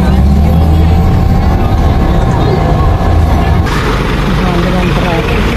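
Loud, steady road traffic rumbles close by while stranded on a congested highway, with engines droning continuously and no clear pauses in the noise.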